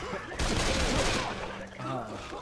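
A dense, loud burst of automatic gunfire in the zombie shooter Left 4 Dead 2 at a dark carnival, a sustained volley lasting over a second before easing off.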